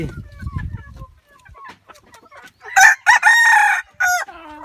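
Someone talks quietly, then a nearby rooster, a cross with wild junglefowl, lets out a loud, ragged crow in several bursts, ending with a short clucking call.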